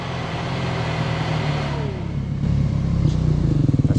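A motorcycle engine runs steadily nearby, then its note climbs as it revs harder toward the end, loud and close with no voices.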